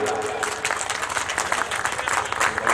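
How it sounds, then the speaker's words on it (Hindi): An audience at a mushaira poetry gathering in Khangura Dih Kat breaks into loud, dense applause, steady clapping from a crowd close by, with voices mixed in. "एक बार आपकी जोरदार तालियां आ जाए"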